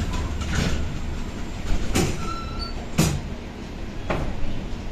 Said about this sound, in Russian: Осторожно, двери закрываются.